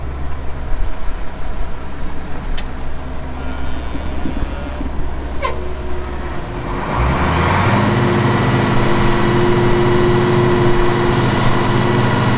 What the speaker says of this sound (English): So let's start up the PTO.